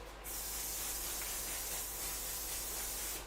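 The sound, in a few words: setting spray sprayed on face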